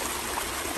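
Meltwater from snow rushing down mountain waterfalls at Mt Rainier National Park, a steady close broadband roar of flowing water with no voices.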